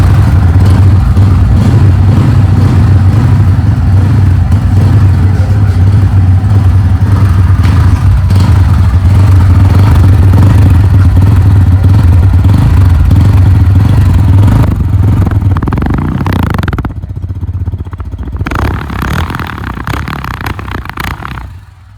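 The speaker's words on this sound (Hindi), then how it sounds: "इसकी आवाज़ सुनाता हूँ आपको, पल्सर 160 N160 की आवाज़ कैसी है" A Bajaj Pulsar N160 motorcycle with a small stock silencer and no kick starter idles loudly up close, a steady low engine rumble with mechanical clatter that drops off near the end.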